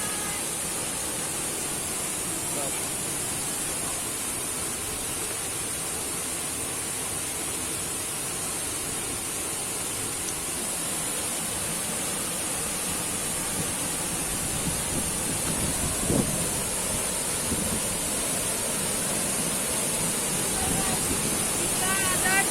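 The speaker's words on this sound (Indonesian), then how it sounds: "Kita ada di air terjun." Segenter waterfall roars in a constant, loud wash of rushing water close by, unchanging throughout, with people talking faintly beneath it.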